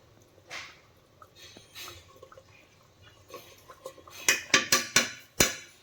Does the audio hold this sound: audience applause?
no